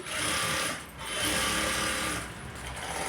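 Close, steady whirring hum of a sewing machine stitching a blouse lining, running continuously with a brief dip in speed near the start and a slight slowdown toward the end.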